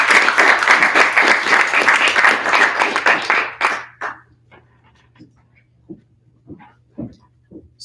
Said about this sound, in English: we just have a round of applause for that